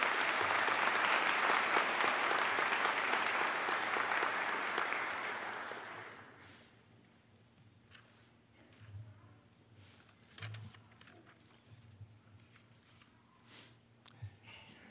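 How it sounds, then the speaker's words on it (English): Audience applause at a law school hooding ceremony, a broad sustained round of clapping from a large crowd that tapers off after about six seconds and leaves a quiet hall with faint shuffling. "Would you please give all of these a round of applause?"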